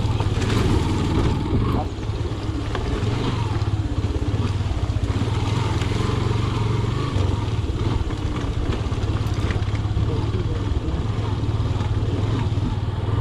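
A motorcycle descending a rough, dangerous mountain road between Maipokhari and Kalpokhari on the way to Sandakphu, Nepal. Its engine gives a steady, close, low drone under constant wind rumble, with no letup throughout.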